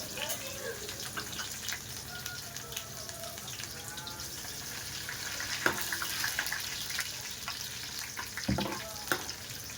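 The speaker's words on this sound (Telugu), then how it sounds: "కరివేపాకు వేసుకోవాలి. కొంచెం ఉల్లిపాయ వేసి వేగనివ్వాలి." Curry leaves and onion frying in a pan make a steady mid-level sizzle, broken by a few sharp stirring scrapes and spatters, with a little faint talk in the background.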